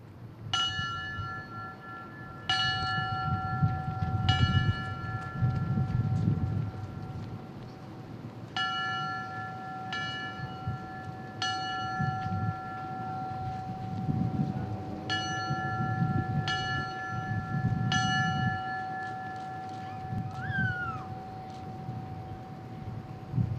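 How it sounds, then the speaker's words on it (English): A ceremonial memorial bell at a firefighters and police commemoration for 9/11, struck nine times in spaced single rings, each clear tone ringing out long over a low murmuring outdoor crowd. "firefighter Gregory Giannotti will now ring the bell 9 times for the firefighters and police officers who gave their lives on 9/11."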